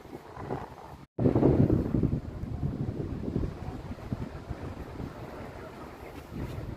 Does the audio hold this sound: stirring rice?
no